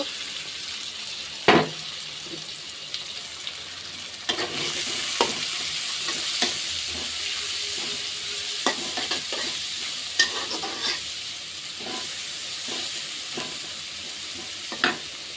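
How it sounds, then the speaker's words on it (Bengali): Garlic, chili and onion fry in a pan with a steady, bright sizzle, while a utensil stirs and scrapes now and then with sharp knocks over the constant hiss. "দিয়ে দিব রসুন আর মরিচ ভাজে নিব। এর সাথে পেঁয়াজও দিয়ে দিব।"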